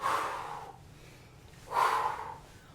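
Two breathy exhalations through the mouth during a relaxing qigong exercise, one at the start and another about halfway through, soft and close with a quiet pause between.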